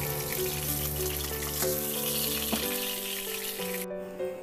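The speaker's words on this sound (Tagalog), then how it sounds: "Sa disim na kawali, iprito ko na rin yung isdang galunggong." Galunggong fish fries in a pan of hot oil with a loud, continuous sizzle and crackle, steady throughout, with occasional pops and no talking.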